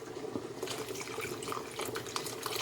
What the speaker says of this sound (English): So I'm gonna add some water to it.